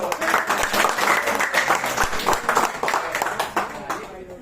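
An audience at a marketing presentation applauds, a loud, dense patter of many hands clapping together, with voices and cheers mixed in before it thins out.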